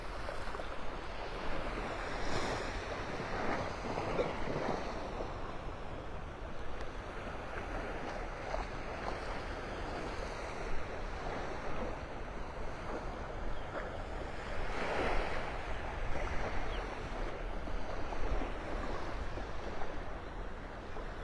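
Ocean waves roll in and wash over the beach at Pelican Bay in North Naples, Florida, a continuous rushing surge with gentle swells, mixed with some wind buffeting the microphone.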